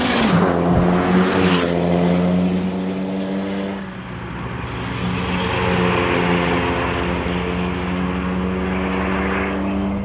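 A Suzuki Swift fitted with an aftermarket turbo being driven, its engine droning steadily with a brief rev at the start and a rise and fall in pitch as it accelerates, heard from inside without talk.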